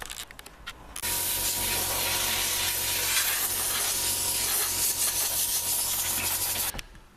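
Acid etch primer sprays in one continuous, close hiss onto a car body panel for about six seconds, starting and stopping abruptly, with faint handling noises before and after.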